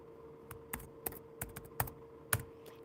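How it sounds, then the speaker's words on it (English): Fingers typing on a computer keyboard, about a dozen quiet, irregular key clicks over a soft steady background hum. "Let me type in hello"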